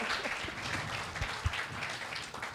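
An audience gives a round of applause at a talk on blockchain, a soft, distant patter of many hands clapping that lasts a couple of seconds at low volume.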